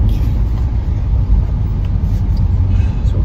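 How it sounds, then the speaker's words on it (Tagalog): Heavy road traffic at the corner of Rizal Avenue and Tayuman, a steady, close, dense rumble of idling and creeping vehicles with no pauses. "Sobrang traffic."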